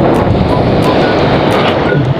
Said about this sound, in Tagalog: Matas ang alon.